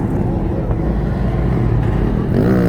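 A Ford Mustang engine rumbles and revs at a car meet, a loud, low throbbing that rises near the end, with people talking over it.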